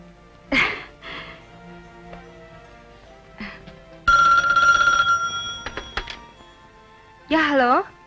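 A telephone rings at night in a drama scene, a loud electric bell burst lasting about a second amid quiet room sounds, with people talking before and after it.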